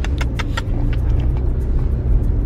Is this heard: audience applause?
no